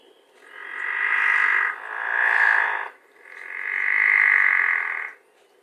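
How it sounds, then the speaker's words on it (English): A pickerel frog calls in three long, low, snore-like croaking bursts of about a second and a half each, separated by short pauses, loud and close with a quiet background and no voices. "People describe the pickerel frog sound as being almost like snoring."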